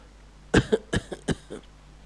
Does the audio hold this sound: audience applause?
no